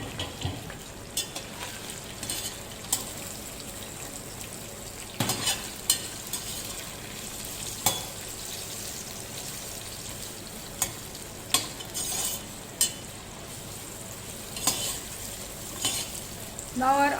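Sliced onions and chilies frying in hot oil with cumin seeds, a soft steady sizzle under intermittent stirring clicks and scrapes of a utensil against the pan.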